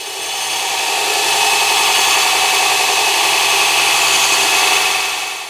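A belt grinder running at full speed with a 24 grit ceramic belt grinds metal, producing a loud, steady, broadband rasping roar that swells in and holds evenly for several seconds, close and uninterrupted.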